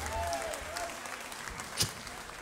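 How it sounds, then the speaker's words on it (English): Faint, distant applause from a concert crowd at a blues show, a soft continuous patter of many hands with one slightly louder burst near the end. "Give him a nice round of applause."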